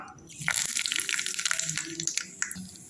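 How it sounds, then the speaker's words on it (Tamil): Coconut water is poured into a mixer jar while making chutney, a close, splashy trickle with small drips and gurgles running for a few seconds. "தேங்காய் தண்ணியை வந்து இதில் ஊற்றிடலாம்"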